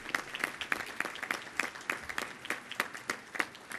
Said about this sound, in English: A round of applause, please, for all of our patron tickets.